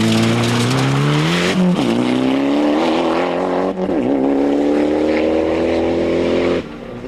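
Proton Mitsubishi rally car racing on the 1996 Ulster Rally, its engine screaming loud and close as it revs up through the gears, with two sharp shifts and a drop-off at the end, no voices.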